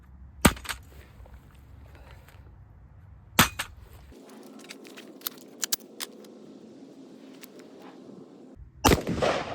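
During a drop test, a scoped rifle hits the ground: sharp, hard impacts land at a few scattered moments, with light rattling clicks between them and a louder clattering burst near the end.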